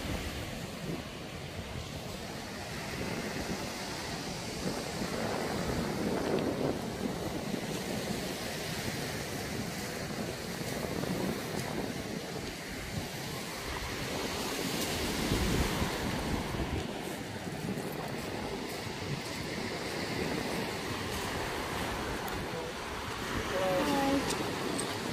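Waves break and wash onto a cold beach under steady wind, with wind buffeting the microphone and surf surging in loud swells throughout.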